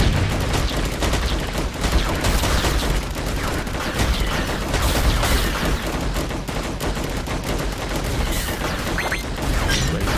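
Rapid, dense gunfire in the Defend Your Life video game, continuous bursts of shots and booms, loud and unbroken for the whole stretch.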